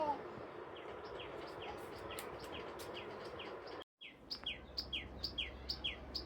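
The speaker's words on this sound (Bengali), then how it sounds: "পাখিগুলো অনেক সুন্দর করে ডাকছে।" Small birds chirp in repeated short, bright calls over a soft steady background hiss, faint and a little distant, growing more frequent toward the end.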